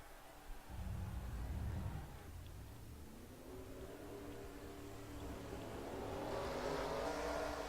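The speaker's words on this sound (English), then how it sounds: "Drivers, start your engines!" Stock car engines starting at Talladega in a racing video game, a field of forty cars: a deep steady engine drone swells and builds into a broad revving roar, loud and continuous.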